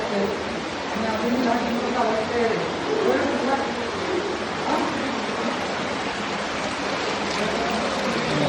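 A stream of water flows steadily at Cherrapunji in Meghalaya, a constant, even rushing wash heard throughout with voices talking over it.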